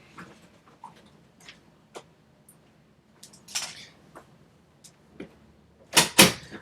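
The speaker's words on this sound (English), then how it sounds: "I just shut my door" A room door is shut with a sharp, close double knock of wood against the frame at the end, following a few faint scattered clicks and light handling noises in a quiet room.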